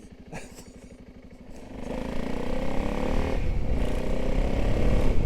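A single-cylinder thumper motorcycle under way, its low engine pulse starting moderate and growing louder and rougher as it accelerates, with wind and road rumble building behind it and no talk.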